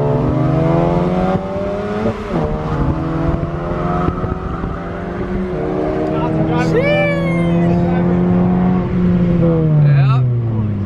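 Two Honda Civic Si cars, a 9th gen and a 10th gen, accelerate hard, with a loud, close engine note climbing steadily in pitch through the run while people talk over it.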